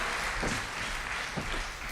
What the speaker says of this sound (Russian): Аплодисменты нашей группе прославления, группы Эльтон, которая всегда служит нам